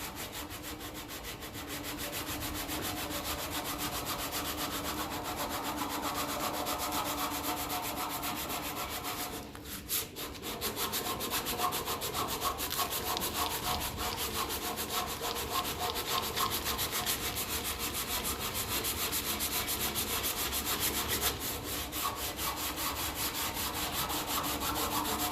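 Steady rubbing of abrasive paper wrapped tightly around a flat whetstone, sanding a Massey Ferguson 35 brake part by hand, with a continuous scratchy rasp and a brief pause near the middle.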